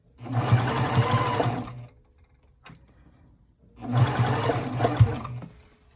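A sewing machine stitches a seam while taking in the sides of a sweater, running in two loud bursts of steady whirring separated by a quiet pause with a faint click.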